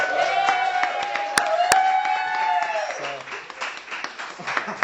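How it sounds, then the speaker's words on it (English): Audience applause with scattered claps and light crowd noise, under a sustained tonal whistle or feedback-like hum, with a couple of sharp clicks. "I just want to give Tsepi a round of applause."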